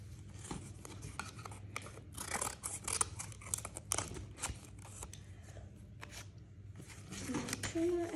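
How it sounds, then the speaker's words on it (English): Scissors snip away excess material from a handmade black and pink box, a series of close crisp cuts and rasping rubs with faint shuffling in between. "One excess cut."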